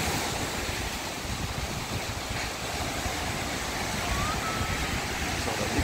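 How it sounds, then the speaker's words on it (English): Big ocean waves roll onto Chaweng Beach on Samui, Thailand, a steady, broad wash of surf with wind noise, continuous and fairly loud throughout. "So the big waves."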